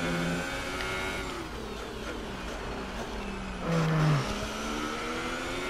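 Formula 1 car engines whine and rev at high pitch in F1 2018 during the Bahrain Grand Prix race, shifting through gears with a prominent surge near the end under a steady roar.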